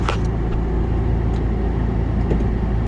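A 2005 VW Jetta TDI diesel car sets off on a drive, a steady, loud engine and road rumble heard from inside the cabin with no talk.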